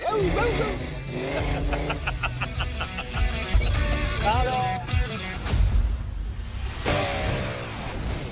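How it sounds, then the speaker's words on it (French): A Ford Mustang GT 390 Fastback, a replica of the Bullitt car, drives past with its engine rising and falling through several revs. Music and talking sit over the engine. "La mythique Ford Mustang GT 390 Fastback."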